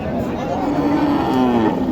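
A cow moos in a long, loud, low drawn-out call at a busy village cattle market in Niamatpur, Naogaon, with faint crowd murmur in the background.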